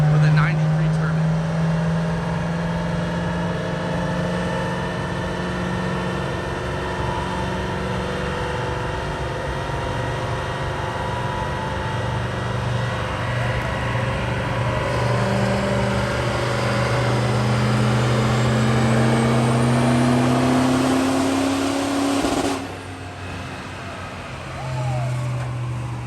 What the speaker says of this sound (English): He's got a pretty awesome Duramax build. This is a single FI 80 with a 93 turbine.